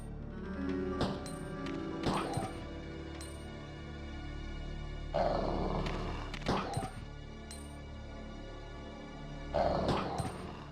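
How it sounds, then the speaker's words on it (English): Dogs in the video game Resident Evil 2, several sharp growls and snarling barks in bursts spread across ten seconds over a low game ambience. "Oh no, dogs."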